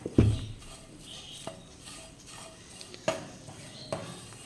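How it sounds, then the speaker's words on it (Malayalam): A spoon scrapes and knocks against a pan while chammanthi podi, a traditional Kerala coconut and spice powder, is stirred until golden brown. The sound is sparse and fairly quiet, with an occasional sharper clink of metal and no talking. "ഒരു ഗോൾഡൻ ബ്രൗൺ കളർ ആവുന്നിടം വരെ നമുക്കൊന്ന് ഇളക്കി കൊടുക്കാം"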